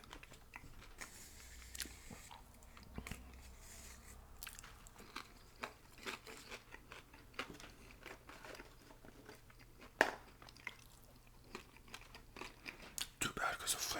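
Close-up ASMR eating of a bison burger: soft bites, crunchy chewing and the crinkle of a wrapper at irregular intervals, quiet and intimate, with faint whispered speech.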